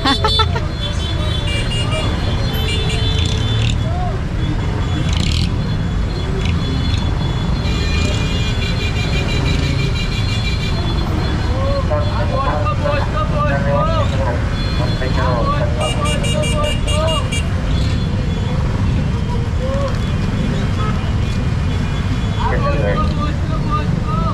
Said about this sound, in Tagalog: kanya-kanyang busina na nga rin po nito mga sasakyan